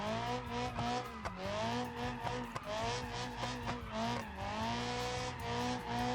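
A light modded car drifts in BeamNG.drive, its engine revving in sustained rising and falling tones with tire squeal layered over it, steady and close throughout.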